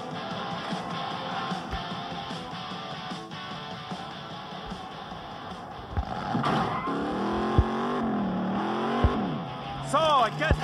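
Car engine droning steadily while driving in the Gangster Vegas video game, rising to revving with tire squeals and swerving whines toward the end, under music and game voices talking.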